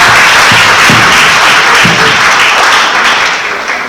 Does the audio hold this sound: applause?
yes